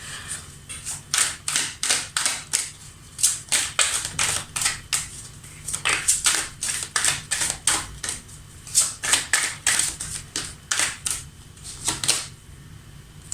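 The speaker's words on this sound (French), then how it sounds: "On va retirer notre carte pour préciser." Tarot cards shuffled and drawn by hand in a steady run of sharp, close slaps and riffles, with brief pauses between bursts and no speech.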